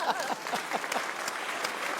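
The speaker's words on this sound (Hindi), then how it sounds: "सबसे पहले तालियां बजाएंगे" Audience applause with overlapping claps and a faint voice beneath, moderately quiet and steady over two seconds.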